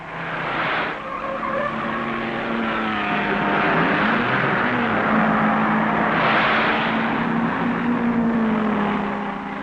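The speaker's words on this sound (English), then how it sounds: "Young Castellotti has his Ferrari in the lead from teammate Malioli." Racing cars at the 1955 Le Mans race, including Jaguars and Ferraris, roar past in a dense, continuous engine drone, with rising and falling pitches as cars pass and a crowd-like wash beneath.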